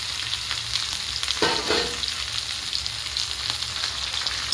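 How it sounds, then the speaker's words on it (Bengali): Chicken leg pieces lightly frying in oil with onion, ginger and garlic, a constant bright sizzle with a brief stirring scrape near the middle, close and steady without any voices. "এবার এই চিকেনগুলোকে একটু সুন্দর করে এই পেঁয়াজ আদা রসুনের সাথে একটুখানি হালকা ফ্রাই করব তেলের সাথে।"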